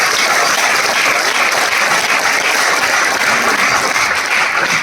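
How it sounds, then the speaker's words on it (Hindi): An audience at a business meeting bursts into loud, dense applause, a steady wash of many hands clapping close by and continuing unbroken throughout. "सबसे पहले व्यास सर और ठक्कर सर इनके बारे में जोरदार तालियां।"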